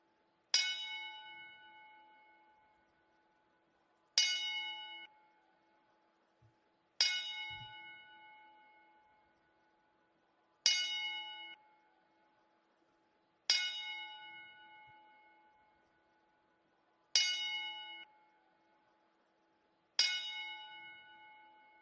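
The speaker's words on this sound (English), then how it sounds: "we'll do a 10 bell salute to those men right now" A bell tolls in a wrestling memorial salute, ringing seven evenly spaced strikes about three seconds apart, each bright clang decaying slowly into near silence before the next, with faint scattered thumps in between.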